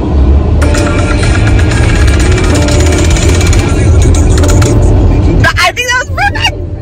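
A car engine rumbles close and loud as the vehicle pulls away, a steady motor drone that drops off near the end, with voices talking over it.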